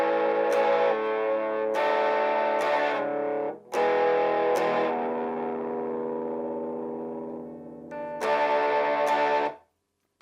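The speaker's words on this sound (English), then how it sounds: "I kind of like the distortion, it hides a lot more of my mistakes." Electric guitar played by a beginner through heavy distortion, loud sustained distorted chords strummed in bursts, each ringing out and decaying, with short breaks between, ending in silence.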